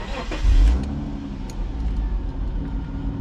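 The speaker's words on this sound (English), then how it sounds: "Let's go for a ride in the XJS." A 1996 Jaguar XJS convertible with a 4-liter inline six pulls away, a loud, close engine rumble that swells briefly as it moves off, then holds a steady low drone with road noise.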